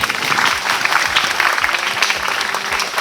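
Audience applause at a Thai provincial administrative organization (อบจ.) community event, a steady wash of many hands clapping for about three seconds, fairly loud and close, with no talking over it.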